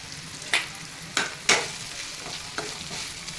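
Chopped ridge gourd goes into a pan of sizzling garlic, making a few sharp clattering drops and stirring scrapes over a soft, close frying hiss.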